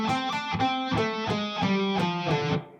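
Heavily distorted electric guitar in drop D plays a pentatonic scale with an added blue note, about six picked notes in a steady, driving sequence, loud and close with no voices.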